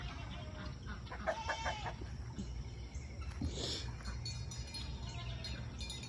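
Chickens clucking in an outdoor yard, a rooster's low clucks and short calls scattered over a constant background hiss, moderately distant.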